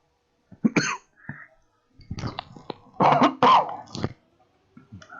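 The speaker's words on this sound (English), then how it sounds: "Just quickly cough up that lung." A person coughs and clears their throat in several harsh, close bursts with short gaps between, with no talking over them.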